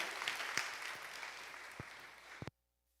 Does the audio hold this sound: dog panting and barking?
no